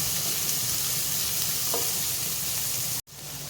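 Small onions sizzling steadily in a hot pan, a loud continuous crackle that cuts off abruptly near the end before resuming.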